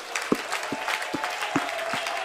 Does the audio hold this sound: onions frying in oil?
no